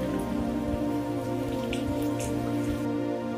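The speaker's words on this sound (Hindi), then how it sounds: "और अभी देखिए बारिश हो ही रहा है, बादल एकदम अपने चरम पे है।" Steady rain pours down continuously, a dense wash of drops hitting surfaces with no voices, constant and fairly loud throughout.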